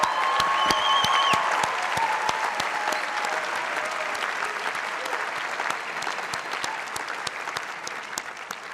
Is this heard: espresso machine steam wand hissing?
no